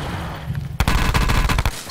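A rapid burst of loud gunfire in Call of Duty: Black Ops 4 Blackout erupts after a quiet moment, shots rattling in quick succession for about a second.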